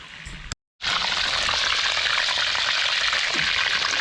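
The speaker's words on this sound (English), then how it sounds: "the sizzling is getting a touch more aggressive" Chicken wings sizzle loudly over a campfire outdoors, a steady dense hiss that stops for a moment and then resumes at full strength.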